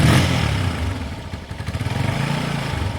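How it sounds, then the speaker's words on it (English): An old motorcycle that sat unused for two years idles as it warms up with the choke off, its engine chugging in a close, loud, slightly uneven pulsing rhythm. "this poor bike hasn't been run in 2 years. So let it warm itself up, let the oil circulate"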